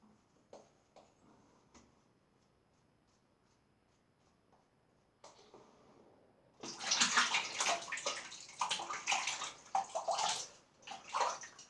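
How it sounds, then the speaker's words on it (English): Tap water gushes loudly over a shaving brush being rinsed at a sink, following a few quiet handling clicks and a soft earlier splash. "let's give my brush a little cursory rinse"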